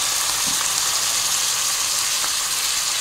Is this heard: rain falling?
no